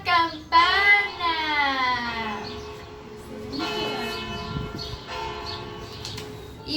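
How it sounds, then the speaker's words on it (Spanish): City bells ring with bright tolling strikes that decay slowly, a first louder peal followed by further softer rings amid faint background noise. "Es una campana."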